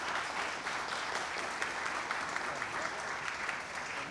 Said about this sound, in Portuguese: Eu queria pedir inicialmente que nós aplaudíssemos nossos convidados